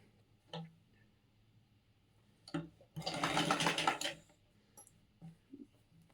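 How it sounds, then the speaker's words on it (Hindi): A sewing machine stitches blouse fabric in one close, steady run of about a second, framed by quiet clicks and handling sounds of the cloth. "कपड़ों को बराबर रखते हुए हम इसको सिल देंगे"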